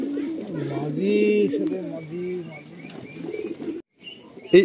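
Kalanka pigeons coo in repeated throaty rolls close by in a loft, while people talk over and between the calls.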